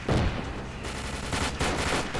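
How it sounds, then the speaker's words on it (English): Heavy gunfire in an ARMA 2 military training exercise, dense overlapping shots crackling loudly and continuously like a close firefight, with no voices over it. "I'm taking pretty heavy fire right here."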